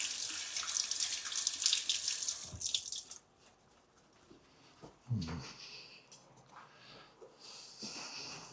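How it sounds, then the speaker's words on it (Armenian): Tap water gushes into a kitchen sink as hands are washed while making an eggplant salad, a loud rush that stops, followed by brief splashes and a softer trickle returning near the end. "ավելի ձեռքերս մի հատ լվանամ"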